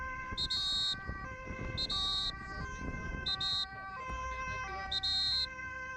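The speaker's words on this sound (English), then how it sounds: "Wonder how far behind him the ambulance is." An ambulance siren wails loudly with a repeating two-tone pattern, high bursts recurring about every second and a half over road noise.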